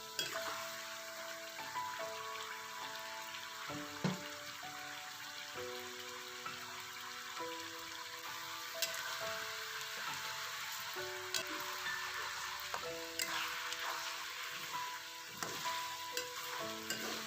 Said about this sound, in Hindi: इसको और फ्राई कर लेंगे तकरीबन 3 से 4 मिनट